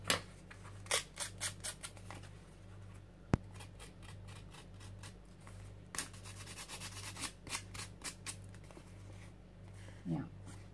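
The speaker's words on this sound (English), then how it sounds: "you can use your scissors like this" Scissors snip through printable paper daisies and paper scraps at a mixed-media art journaling desk, giving a series of close, crisp cuts and rustles in an uneven rhythm, with a low steady hum underneath.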